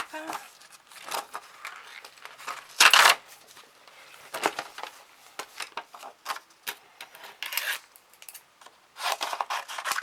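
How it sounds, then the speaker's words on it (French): Paper being cut with scissors in short, uneven snips and rustles, close by, with quiet pauses between bursts. "Alors je vais d'abord le découper."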